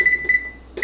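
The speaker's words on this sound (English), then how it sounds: "So the timer went off" An oven timer beeps in short, evenly spaced electronic tones, three clear beeps in quick succession, close and distinct with no talking.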